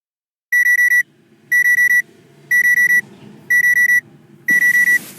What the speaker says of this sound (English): If I want to set the alarm, I need to press the alarm button.